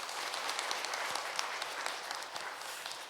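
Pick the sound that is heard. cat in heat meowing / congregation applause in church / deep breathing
congregation applause in church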